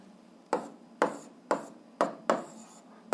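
A pen writing out a math solution by hand, fractions being multiplied, heard as five close, evenly spaced scratchy strokes about half a second apart, each a short rasp that fades quickly, with no talking.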